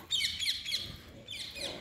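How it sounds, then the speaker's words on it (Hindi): Small birds chirp near an old cave tunnel in a quick run of bright, close tweets, pause, then chirp again, each call clear against a quiet outdoor background. "पक्षियों की चहचहाट आप सुन पा रहे हैं।"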